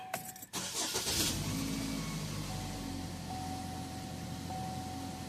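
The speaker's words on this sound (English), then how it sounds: "first you have to start the vehicle at least of 5 to 7 seconds, then turn off" Chevrolet Equinox engine cranking briefly and catching, then settling into a steady idle, close and fairly loud with no talk over it.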